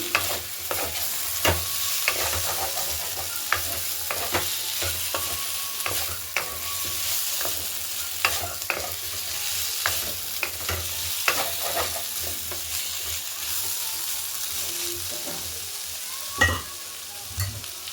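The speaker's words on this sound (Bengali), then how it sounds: "এবারে কুচনো টমেটোটা দিয়ে দেবো দিয়ে ভালো করে কষিয়ে নেবো ভালো করে" Chopped tomato, potato and onion fry in a pan for a Bengali bean and potato dried-fish dish, a constant close sizzle punctuated by frequent spatula scrapes and taps as the mixture is stirred.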